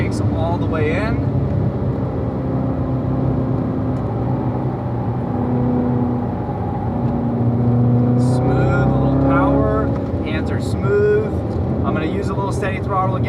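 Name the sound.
car engine at steady throttle through corner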